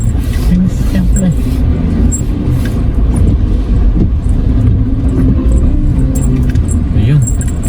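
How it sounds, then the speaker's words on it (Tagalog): Vehicles drive uphill on a road during a typhoon evacuation, a constant loud engine rumble with rattling and jangling on top, heard close up without any talk. "May mga sasakyan."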